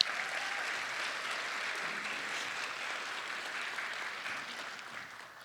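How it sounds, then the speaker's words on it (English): Applause for the Mosaic Digital Academy class of 2022 at a virtual graduation, a steady crowd clapping that holds for about five seconds and begins to taper off at the end, with no talk over it. "Let's get a round of applause."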